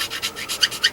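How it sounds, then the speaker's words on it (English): A rat tail file rasps against the fender of a Revell 1969 Camaro plastic model kit, several short, close strokes in quick succession with nothing else heard. "I started using a rat tail file, by the way"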